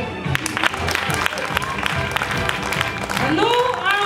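Audience applause at the close of a children's concert honoring a folk vocal ensemble, a steady dense wash of clapping throughout with a rising musical tone near the end.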